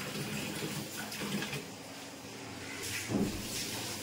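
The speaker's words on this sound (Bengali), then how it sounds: "আমি একটু ডিমটা ভালো জলে ধুয়ে নিই, আমাদের অ্যাকোয়াগার্ডের জলেতে।" Purified water runs from a tap while an egg is rinsed under it, a close, steady watery hiss with a small splash near the end.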